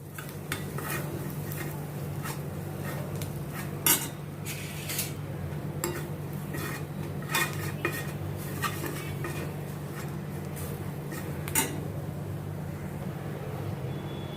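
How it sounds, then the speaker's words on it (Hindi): Spices, garlic and chili sauté in a pan for a potato samosa filling. A utensil stirs with repeated metallic clinks and scrapes over a low background hum, with no talking. "अभी मसालों को इसके लहसुन और मिर्ची के साथ अच्छी तरह से मिक्स करके सौते करूँगी"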